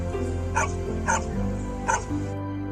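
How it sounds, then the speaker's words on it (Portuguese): A fire brigade rescue dog in Mato Grosso, Brazil, gives three short, evenly spaced barks or yips over a steady low background hum, sounding moderately close. "A Xera faz parte da primeira geração de cães de resgate do Bombeiro do Mato Grosso"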